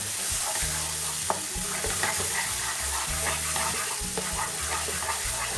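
Raw mango chutney simmering with spices in a pan, with a steady sizzle and bubbling broken by repeated stirring scrapes and a few sharp clinks, all close and without speech.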